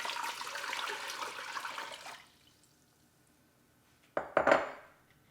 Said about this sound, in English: So I'm gonna put in 10 cups of just room temperature tap water